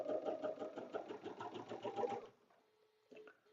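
A sewing machine stitching a quilted placemat runs in a steady, fast, motor-driven rhythm for about two seconds, then stops, followed by a few faint mechanical clicks.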